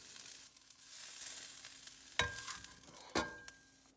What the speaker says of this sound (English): And add the white onion and carrot to saute.